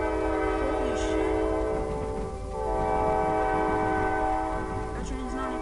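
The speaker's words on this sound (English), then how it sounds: "That train's not even nearby." A train rumbles steadily past with a long, sustained horn blaring over it, loud and fairly close, with faint voices briefly underneath.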